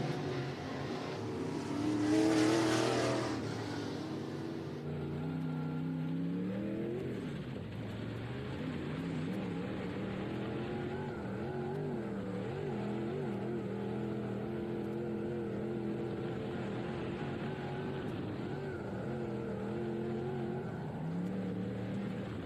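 IMCA Modified race cars run a heat at Cottage Grove Speedway in Cottage Grove, Oregon, engines droning and rising in pitch as they pass at a distance, with a louder surge early on before the pack noise settles into a steady roar.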